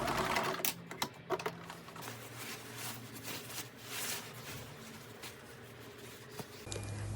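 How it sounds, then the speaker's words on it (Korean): A sewing machine stitches along the cuff edge of a tailored trench coat, a close rapid mechanical patter in uneven bursts with short pauses and fabric handling between runs, no talking. "겉면에서 커프스 가장자리를 따라서 박음질을 하면 예쁜 커프스를 다룰 수 있습니다"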